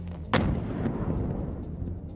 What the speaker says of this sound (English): The booming echo of this controlled detonation signaled a more lasting presence of Afghan National Police and the U.S. Army in the Tangi Valley.